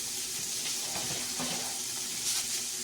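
A steady, close hiss of meat sizzling in a frying pan continues without a break.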